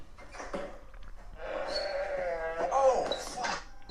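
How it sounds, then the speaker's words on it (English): A goat bleats in a house, several drawn-out wavering cries rising and falling over a few seconds, heard at moderate distance with some faint background noise. "Legitimately sounded like there was a goat in the house."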